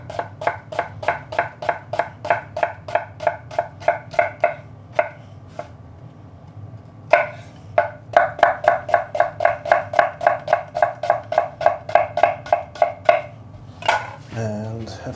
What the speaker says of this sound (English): I'm going to chop my shallots